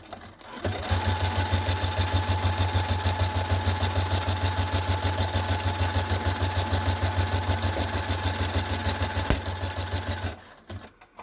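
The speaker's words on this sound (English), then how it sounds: "we're going to stitch our Velcro, just a regular stitch pattern, regular line." A sewing machine stitches Velcro onto a dog hunting vest in one continuous loud run of rapid, even mechanical clatter, starting and stopping cleanly with no talk.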